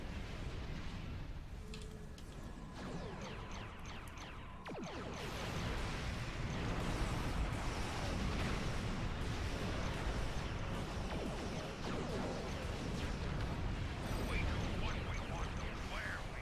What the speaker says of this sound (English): That theta radiation though, guys, from the particle emission torpedo,